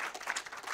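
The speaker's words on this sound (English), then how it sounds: "Give Theo another round of applause." Applause from a festival talk audience for Theo, a faint, short patter of hand claps in a room, heard briefly with no voices over it.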